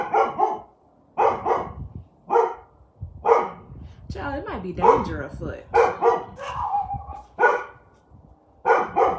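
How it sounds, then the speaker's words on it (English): Several dogs bark repeatedly in loud, rhythmic bursts close by, with a person speaking briefly between the barks. "Let's go see why they're barking."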